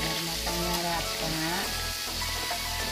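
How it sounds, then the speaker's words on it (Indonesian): Breakfast food fries crisply in a hot pan at home, a loud continuous sizzle with crackling pops, while a voice talks faintly in the background. "Nah ini kita goreng sampai garing, sampai matang ya teman-teman."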